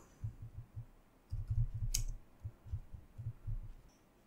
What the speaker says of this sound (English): click on this Windows icon